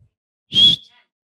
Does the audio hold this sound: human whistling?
yes